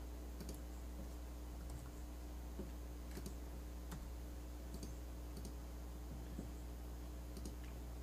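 Computer keyboard typing and mouse clicks while filling in form fields, a sparse run of light keystrokes and clicks over a steady low hum, quiet and close, with no speech.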